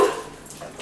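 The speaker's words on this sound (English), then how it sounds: "Hey, don't make her bark." A dog gives one short, high yelping bark close by, with a faint whimpery tail that fades out in under a second.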